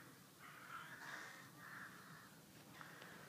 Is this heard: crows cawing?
yes